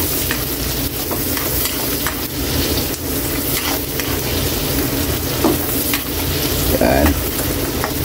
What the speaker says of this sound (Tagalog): Lagyan na natin yung sibuyas Kylie, yan.